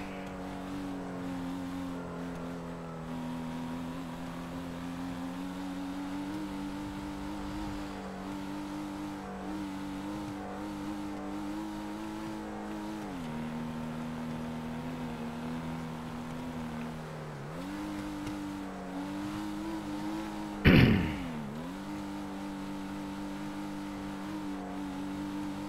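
Cars idling and revving at a car meet in the game GTA Online near Los Santos Airport, with a steady engine drone that rises and dips in pitch over time and a brief sharp clunk near the end.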